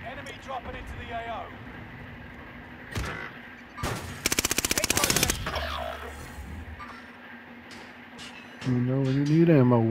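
Rapid automatic gunfire bursts in a military shooter game, an airfield battle: scattered shots, then a dense machine-gun volley, with game noise and a rising engine-like drone near the end; no voices are heard.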